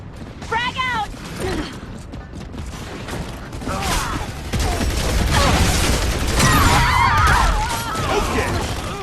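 A frag grenade blast and rattling gunfire in Gears of War: Judgment multiplayer, with a loud, dense wash of explosions, shattering debris and mechanical clatter throughout, while a voice calls out.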